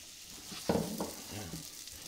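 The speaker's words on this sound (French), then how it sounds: "Je prends une poêle, un tout petit peu de beurre et on va faire revenir" Mirabelle plums fry in a little butter in a pan, giving a soft, steady sizzle with a brief louder crackle and stir, close and fairly faint.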